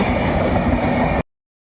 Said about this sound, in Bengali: দেখতে পাচ্ছেন একটি ট্রেন পাস হচ্ছে।